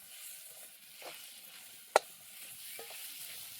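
Spiced cowpea vegetable sautéing in a pan, a quiet steady sizzle with a few soft stirring scrapes and one sharp clink of a spoon on the pan's rim, close but faint.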